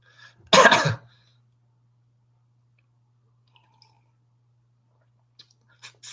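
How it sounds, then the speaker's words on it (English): A single short, harsh cough near the start, then near silence with a low hum and a few faint clicks and rustles. "Get that cough checked."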